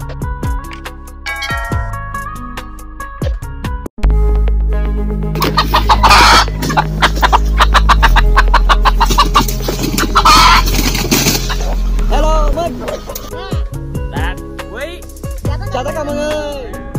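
Villagers' chickens in the countryside cluck and squawk close by in repeated short calls, with a loud rushing noise swelling through the middle and people talking.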